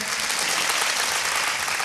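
Applause from a workshop group at an acting camp in Thrissur, a dense steady clatter of many hands clapping close by for about two seconds, with no talk over it.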